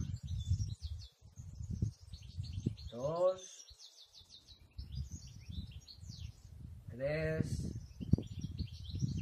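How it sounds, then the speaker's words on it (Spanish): European goldfinch singing outdoors at an open-air yoga class in Alcocebre, Castellón; bright, twittering high chirps and trills run steadily throughout, fairly faint, beneath a nearby voice counting aloud. "Eso que se oye ahora es un jilguero."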